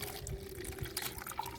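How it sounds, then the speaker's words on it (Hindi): Water from soaked onion peels straining through a sieve, a soft continuous trickle and splash with faint drips, quiet and close. "तो सबसे पहले तो हम इसको छान लेते हैं, प्याज के छिलकों को अलग कर देते हैं।"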